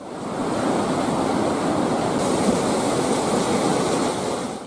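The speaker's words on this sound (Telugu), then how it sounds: "పాకాల సరస్సు పూర్తిస్థాయి నీటిమట్టం దాటి అలుగు పారుతోంది" Water from Pakala Lake in Warangal rushes over a spillway in a loud, steady roar that holds constant for the whole stretch, broad and unbroken like heavy surf.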